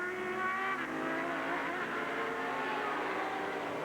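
Race cars from the 2000 Grand Am race at Mid-Ohio, GTO and GTU class leaders plus a Ferrari, roar past on track in a loud, continuous blend of high revving engines with no break.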